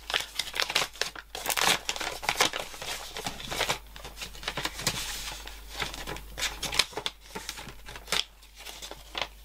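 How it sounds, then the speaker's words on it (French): Small paper envelope being opened and unfolded, a busy stretch of crinkling, crumpling and tearing paper handled close up, with no talk. "Alors, on va ouvrir la petite enveloppe."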